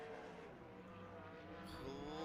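A dirt-track race car, Brett McGuy's number 66, rumbles steadily through a qualifying lap at Skagit Speedway during Dirt Cup night one, its engine a distant, continuous drone that swells slightly toward the end.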